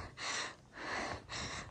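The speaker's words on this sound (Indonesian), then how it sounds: "Ngos-ngosan gara-gara tanjakan" Heavy, rasping panting from a solo hike up a steep hill at Bukit Mongkrang, three long breaths close to the microphone in a steady rhythm, heard without talk.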